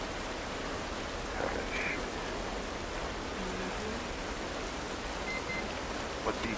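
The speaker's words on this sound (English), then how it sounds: "the rain falling off their faces" Steady rain falling in The Last of Us Part 1, a soft, even hiss of drops on surfaces that stays faint and continuous throughout, with a few brief distant tones on top.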